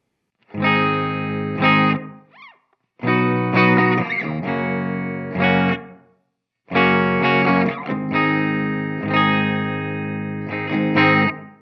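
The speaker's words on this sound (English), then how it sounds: "This next one here is the studio reverb, and this one seems a little more tight." Sustained electric guitar chords ring through the tight studio reverb setting of a Strich Triple Vibe multi-effect pedal, played in three phrases separated by short pauses, with a brief decaying tail after each.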